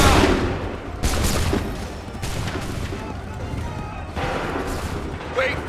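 Musket volley fired on command in Assassin's Creed III, heard as several bursts of crackling, overlapping shots amid battlefield noise, with voices shouting in between.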